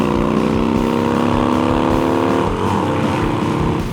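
A 942 cc motorcycle engine revving hard under acceleration through the gears, a loud, close, continuous roar whose pitch climbs steadily, then drops at a gear change and climbs again.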